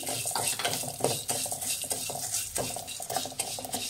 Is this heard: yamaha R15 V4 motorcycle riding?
no